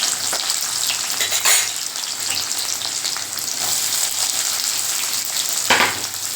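Chopped onions sizzling and crackling in hot oil in a pan for a meal maker gravy, a steady frying hiss with a couple of louder bursts as they are stirred.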